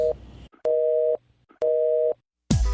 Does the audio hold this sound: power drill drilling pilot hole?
no